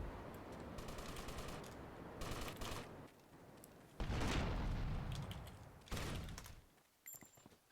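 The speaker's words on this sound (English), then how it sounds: "Pyro firing a rocket" Pyro firing a rocket in a video game: bursts of rapid gunfire-like crackle, then heavier booming blasts that swell loudly and cut off, with no voices.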